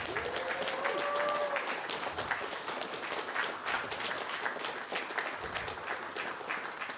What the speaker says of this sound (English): let's have one last round of applause for everybody